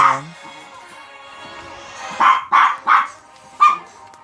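A dog barks four times in quick succession, loud and close, with faint speech-like murmur and game sounds in the background during a live-streamed mobile game session.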